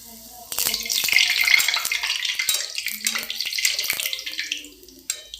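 A rolled bhatura, a little larger than a puri, frying in hot oil, with loud continuous bubbling sizzle close by that swells and fades slightly, with occasional clicks and a brief knock near the end.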